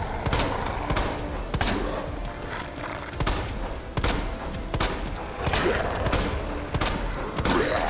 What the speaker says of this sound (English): A lot of shots wasted.